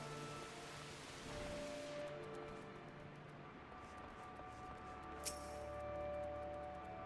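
Steady rain falls in the video game Final Fantasy XIV: A Realm Reborn, a soft continuous hiss at low level with one brief faint tick near the end.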